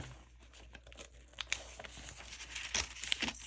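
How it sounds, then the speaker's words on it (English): Scissors or hands work a coloring page free from a book, with steady close-up paper crinkling and tearing that builds into sharper rustles toward the end. "So what I'm gonna do is I am going to cut this out."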